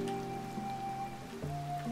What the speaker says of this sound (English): now I need to wait for it to stop raining